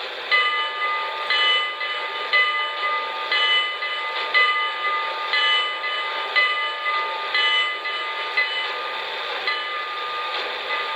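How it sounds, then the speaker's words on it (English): A Lionel NYC Commodore Vanderbilt model steam locomotive sounds its bell, a steady ringing repeated in a regular rhythm about once a second, clear and close over a continuous hiss, with no talking. "Here's the bell."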